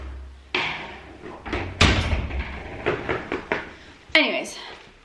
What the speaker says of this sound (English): Let me just shut this door